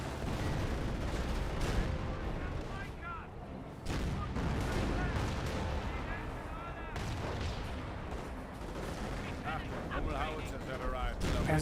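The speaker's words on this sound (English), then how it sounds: "Good shots there" Battle sounds from the real-time strategy game Company of Heroes: dense gunfire and artillery booms roll on continuously at steady loudness, with a commentator's voice running over the combat throughout.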